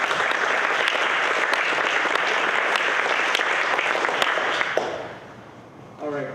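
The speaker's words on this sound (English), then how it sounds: "A big round of applause for Prasad," A conference audience applauds the speaker Prasad, sustained clapping from many hands that fades out after about five seconds, followed by a brief moment of near quiet and the start of a voice.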